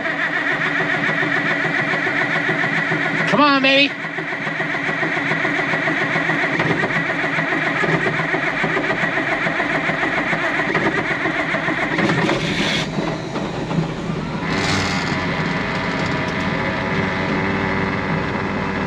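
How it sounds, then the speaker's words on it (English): An International Harvester IH 6588 tractor, neglected and badly maintained, cranks and fires up, then settles into a steady close diesel idle in neutral, with a brief voice heard over the engine. "tractor started, we're in neutral"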